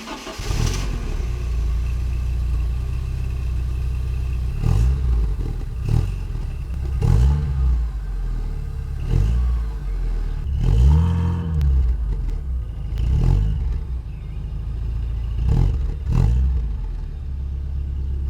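A Porsche 944 engine, long unused and just rebuilt, rumbles steadily while driving, with repeated loud revs rising and falling every couple of seconds, close and without talk.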